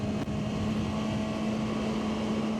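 A Kawasaki ZX-6R motorcycle engine drones at a steady, even pitch while riding, with a constant rush of wind and road noise.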